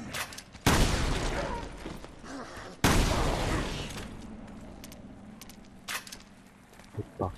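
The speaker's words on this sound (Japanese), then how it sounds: "爆発" Two loud explosions boom in Resident Evil Revelations 2, each a sudden sharp blast decaying into a long rumbling tail, followed by a few faint scattered pops and clicks.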